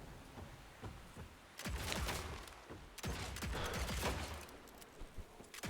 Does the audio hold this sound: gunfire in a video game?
yes